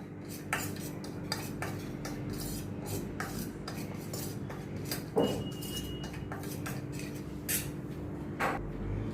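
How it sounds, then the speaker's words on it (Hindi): A spoon clinks and scrapes in a small bowl, mixing Kashmiri red chili powder and amchur powder together; the taps are light, irregular and close, over a quiet room hum with no talking. "अभी इन सभी मसालों को मैं मिक्स करती हूँ।"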